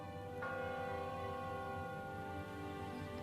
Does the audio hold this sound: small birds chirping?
no